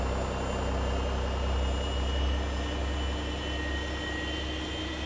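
A simulated Boeing 737 jet engine spooling up in X-Plane 11 fills the clip with a sustained, loud, deep roar and airy whine, steady and unbroken, with no voices.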